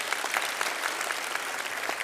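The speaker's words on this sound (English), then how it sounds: "Give her a big clap." Audience applause at a university graduation ceremony in Brisbane, a steady wash of many hands clapping at moderate level throughout, with no voices standing out.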